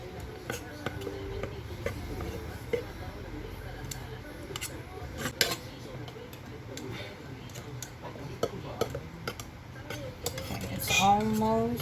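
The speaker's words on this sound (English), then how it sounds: "So just keep stirring and continuously stir." Spoon scraping and clinking against a metal pot while soy wax melts and is stirred, giving irregular taps and scrapes under a low background hum, with a voice briefly talking near the end.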